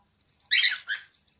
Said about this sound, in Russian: Что там птицы тебе говорят?